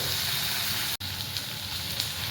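Shrimp (kochu chingri) frying in a pan, giving a steady close-up sizzle and crackle that continues throughout, briefly cut out for an instant partway through.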